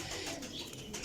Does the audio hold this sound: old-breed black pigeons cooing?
yes